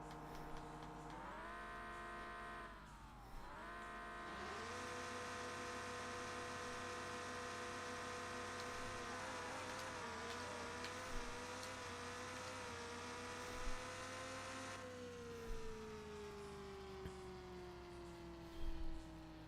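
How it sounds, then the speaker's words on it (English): A Lamborghini in the No Limit 2 drag racing game revs up, then holds a loud, buzzing high-rpm drone as it pulls down the strip, easing off to a falling tone near the end. "You can hear that Lambo. That thing is quite loud."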